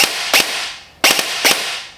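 Semi-auto shots from an E&C G28 airsoft DMR, four crisp snapping reports in two quick pairs, close and loud, each cut off with a short fading tail.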